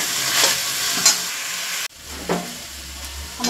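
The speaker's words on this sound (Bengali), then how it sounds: "এবার আমি ভালো করে মশলাটাকে কষিয়ে নেব" Chili and turmeric spice paste frying in a pan with salt and sugar, a close steady sizzle with stirring scrapes, a sharp drop midway as the heat or lid changes, then quieter sizzling with soft clinks.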